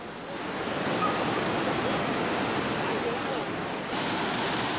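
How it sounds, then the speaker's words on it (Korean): A waterfall fed by mountain water near Darjeeling, India, roars as a steady, dense wash of noise, loud and continuous throughout with no pauses. "육섬 지역에는 유난히 폭포가 많다."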